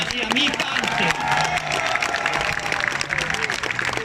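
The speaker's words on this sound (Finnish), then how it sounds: "Arvoisa yleisö, annetaan raikuvat aplodit Jari-Matti Latvala ja Mika Anttila." Crowd applause and cheering for the top rally crews at the Rally Finland 2019 WRC podium ceremony, a steady dense clatter of clapping throughout with a loud voice talking over it.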